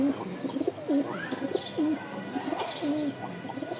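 Rajshahi flying-breed pigeons coo repeatedly nearby in soft, rolling bursts, overlapping one another with a few faint chirps in the background.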